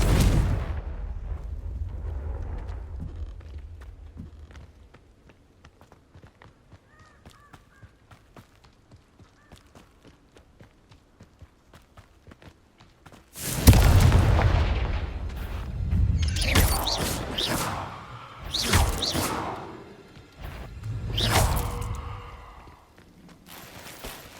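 Blasting curse exploding during Hogwarts Legacy play: after a quiet stretch of faint ticking, a sudden loud burst erupts, followed by several heavy booming blasts and rumbling debris.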